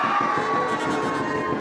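Thin, half-hearted applause from the audience at a shayari poetry recital, a steady wash of clapping with a faint tone running beneath it.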